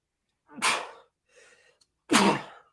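Two sharp sneezes close by, separated by a soft breath, in an otherwise quiet room.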